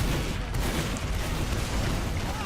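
Heavy video game gunfire and explosions in the Badlands map, a dense, continuous barrage of booms and shots filling the whole stretch at steady loudness with no talk over it.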